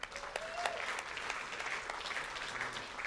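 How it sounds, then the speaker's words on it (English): Applause from attendees at a morning chamber business networking meeting in Marysville, a steady patter of clapping from a modest-sized room, fairly faint and continuous throughout. "give yourself a round of applause for being here"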